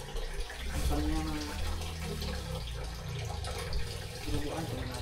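Running water used for cleaning on a rural province farm, a steady close splashing and gushing like a tap flow, continuous throughout at moderate level with no talk.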